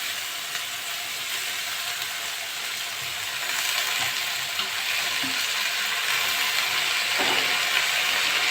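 Shrimp and leafy greens fry in a hot pan with a loud, continuous sizzle and crackle, with occasional stirring, and no voices.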